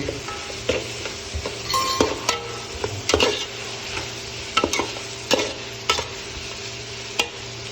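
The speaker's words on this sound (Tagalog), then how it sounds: "kailangan natin igisa para yung chicken curry natin" Chicken curry sautés in a pan as a soft sizzle under repeated scraping and knocking stir strokes, close and moderately loud.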